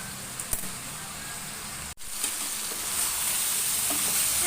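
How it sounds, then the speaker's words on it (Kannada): Brinjal (eggplant) pieces frying in hot oil for a Karnataka village-style palya: a steady, close, hissing sizzle that runs throughout, briefly cutting out for a moment near the middle before resuming. "ಎಣ್ಣೆ ಒಳಗೆ ಒಂಚೂರು ಫ್ರೈ ಮಾಡ್ಕೊಬೇಕು ಬದನೆಕಾಯಿ"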